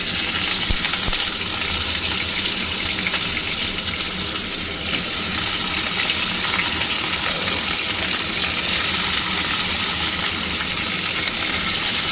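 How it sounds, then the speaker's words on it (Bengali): Potatoes fry in hot oil in a pan, giving a steady, loud, even sizzle that runs unbroken throughout. "আলুগুলো একটু ভাজবো।"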